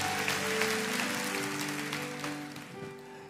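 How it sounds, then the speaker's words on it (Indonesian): A church congregation claps for God during a worship service, steady broadband clapping at moderate distance layered over sustained keyboard chords, gradually easing off toward the end. "Kasih tepuk tangan untuk Tuhan"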